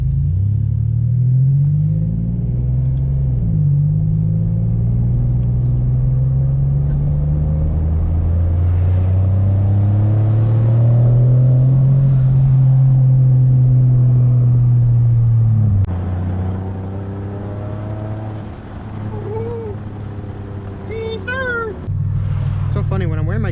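A 3.7-liter V6 Ford Mustang with a big single turbo accelerates nearby, its engine rising and falling through several pulls with sustained droning revs and a quieter stretch near the end.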